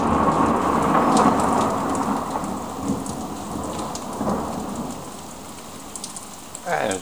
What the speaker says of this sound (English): Bit of a storm going on.